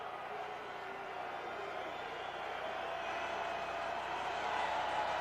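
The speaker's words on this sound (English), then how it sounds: "Crowd at the Orange Bowl, still into it, urging the defense on" Football crowd at the Orange Bowl in Miami cheering on the defense during a college game, a steady broad roar that swells slightly toward the end, with a commentator's voice faintly under it.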